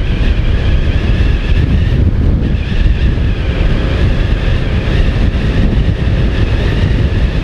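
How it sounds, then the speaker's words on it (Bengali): A Yamaha Aerox 155 scooter accelerates hard on a highway, its VVA engaging: a loud, steady engine drone buried under heavy, continuous wind rush, with no talking. "সাডেন আমি যদি অ্যাক্সেলারেট করি, বাইকের পিকআপও যেরকম সাডেন বাড়ছে সেরকম ওই VVA-টাও অ্যাক্টিভেট হয়ে যাচ্ছে"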